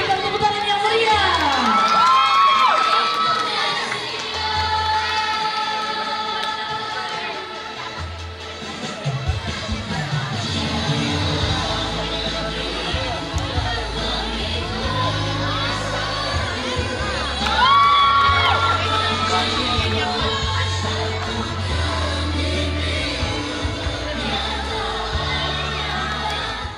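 Audience at a high school fashion show cheers and shouts loudly over music, with a children's crowd whooping and a steady wash of applause that swells again midway.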